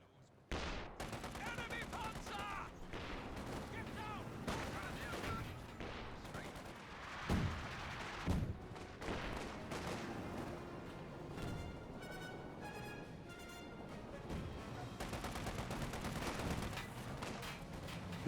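Light machine guns firing in Company of Heroes 2 battle: rapid bursts and scattered shots, with distant explosions and a dense battle din layered throughout, while a commentator talks over the action.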